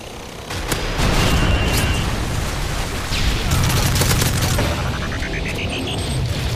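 A grenade detonates in MW3 with a heavy boom and rumbling aftermath, followed by another burst of crackling blasts and sharp clicks amid dense gunfire-laden battle noise, with a voice talking over it.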